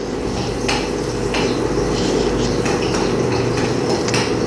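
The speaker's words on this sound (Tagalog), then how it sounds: "Ayan, magisa tayo ng luya." Ginger sautéing in a pan (kawali) while cooking a Filipino dinner dish, a steady close sizzle broken by repeated scraping and clinking of a spatula or ladle against the metal pan, with no talking.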